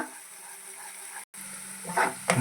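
Capsicum and cashews fry in a salted pan with a steady, close sizzle. A brief cutout comes partway through, then louder stirring clatters near the end.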